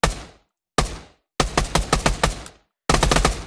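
A series of sharp, loud pistol gunshots in the VR game Pavlov VR, a few single shots then quicker bursts separated by short silences, with no one talking.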